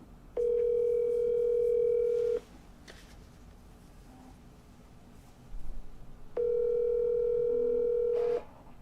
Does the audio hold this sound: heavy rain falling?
no